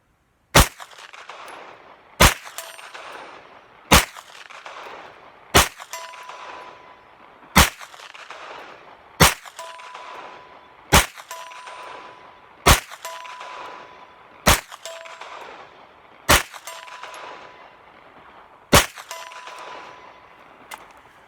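Pistol shots from an FM9 and an MPX ring out one at a time, each crack followed by a sharp metallic clang off a steel target, about a dozen evenly spaced shots at a steady rhythm, loud and close.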